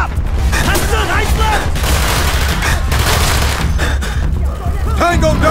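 Call of Duty: Black Ops on Xbox 360 erupts in loud, dense gunfire, rapid bursts and booming shots packed together over several seconds, with shouted voices mixed in.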